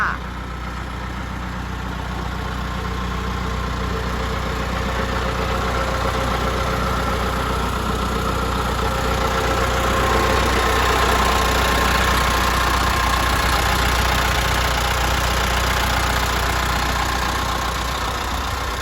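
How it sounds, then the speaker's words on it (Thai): A Toyota 6FD30 diesel forklift engine idles steadily for the whole stretch, a constant low rumble with a faint knocking texture and no break in level. "ตัวเครื่องยนต์นะคะจะเป็นดีเซลนะคะ เครื่องโตโยต้า"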